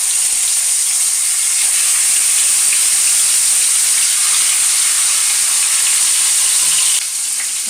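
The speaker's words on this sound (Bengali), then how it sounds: "এবার আমি মাছগুলোকে কড়াইয়ের মধ্যে একে একে দিয়ে দেবো।" Pieces of bhola fish fry in hot oil in a wok, giving a loud, dense, continuous sizzle and hiss that holds steady and eases slightly near the end, with no talking.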